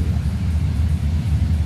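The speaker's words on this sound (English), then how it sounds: "There is a train across the road over there that comes by." A low, steady rumble of a train rolling past across the road, continuous and fairly loud throughout, with no voices.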